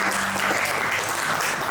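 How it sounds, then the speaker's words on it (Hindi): An open mic crowd claps loudly and steadily, a dense wash of applause from a full audience that holds at an even level for the whole moment. "एक बार मेरे लिए भी जोरदार ताली मारो।"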